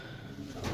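Pigeons kept for sale coo in a brief, close burst, the soft low calls heard alone for under a second.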